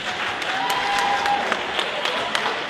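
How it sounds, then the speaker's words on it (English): Audience applause at an event honoring guests called to the stage, a steady wash of clapping hands with a few sharper individual claps standing out, fairly close and filling the room. "Let's see a round of applause."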